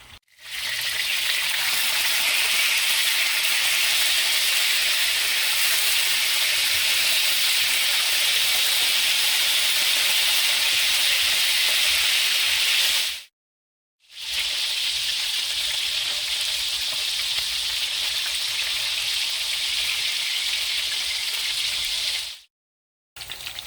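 Lamb chops sear in a pan with a steady, loud sizzle and hiss, cooked Haitian style, continuous apart from two brief silent cuts, with no talk.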